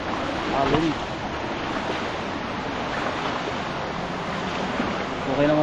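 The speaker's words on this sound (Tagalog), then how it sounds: "Alon." Floodwater from a swollen river rushes past in a steady, dense roar that holds close and loud throughout, with some wind buffeting the microphone.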